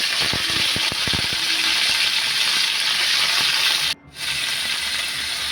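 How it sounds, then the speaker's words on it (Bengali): Pumpkin stalks frying in oil with salt, a loud continuous hissing sizzle with scattered clatter of stirring early on, cutting out briefly before resuming. "এবার তেল দিচ্ছি, তেল দিয়ে ডাঁটাটা নাড়বো ভালো করে নুন দিয়ে।"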